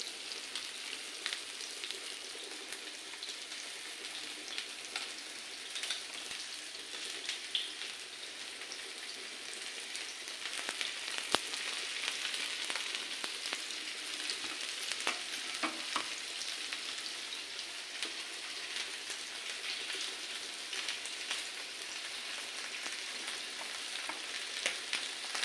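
Five pieces of fish frying in a pan, a steady close hiss and sizzle of hot oil with scattered sharper crackles and pops, continuous and moderately loud, no talking.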